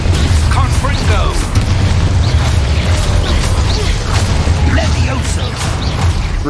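Confringo blasting spell explosions in the video game Hogwarts Legacy, a dense, continuous barrage of booming blasts and crackling bursts under loud game music and effects, with a voice calling out spells throughout.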